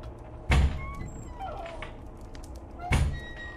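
Two heavy bangs, about two and a half seconds apart, thud through a dark building in a video game, with faint creaks and tonal sounds in between against a quiet background.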